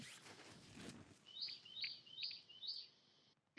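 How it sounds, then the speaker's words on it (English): Loud birds in trees outside an open window on a crisp fall day, giving four quick bright chirps in an even series, mid-distance, over a steady room hiss after a brief rustle. "Some loud ass birds, sir"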